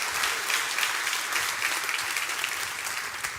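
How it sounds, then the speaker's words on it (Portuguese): Dense, continuous crowd applause fills a church service, many hands clapping loudly and evenly with no voices standing out. "dá uma salva de palmas a Jesus"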